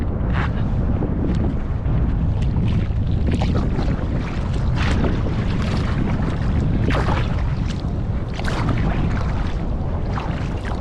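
Kayak paddling with a Greenland paddle on Lake Erie in winter, with steady wind buffeting the microphone and water sloshing around the hull, loud and continuous with no talking.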